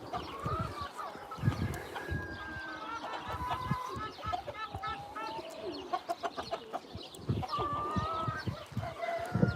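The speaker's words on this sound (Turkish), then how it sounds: "Arkada da bir horoz bir tavuk var ama biraz rahatsızlar" A rooster and a hen, both somewhat unwell and sluggish from medication, cluck and call intermittently at close range, their short bird notes scattered among rustling and handling noise, with voices talking throughout.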